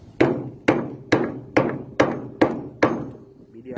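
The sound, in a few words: hammer beating metal anchor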